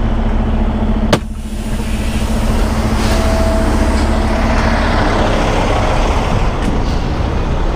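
A semi truck idles and rolls forward at close range to slide its trailer wheels back, with a loud, steady engine rumble, a sharp air-brake hiss or clank near the start and no voices.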